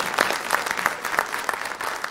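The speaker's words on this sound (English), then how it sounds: "I would like that we all give a round of applause for each other" An audience at a foundation development event breaks into warm applause, many hands clapping densely and steadily at close range with a few louder claps standing out.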